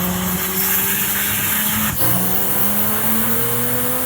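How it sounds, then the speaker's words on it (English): A yellow turbocharged 2004 Jeep Wrangler engine runs loud and close with a steady, continuous drone and rising pitch, briefly dipping near the middle before carrying on. "I own a 2004 Jeep Wrangler. It's yellow and it is turbocharged."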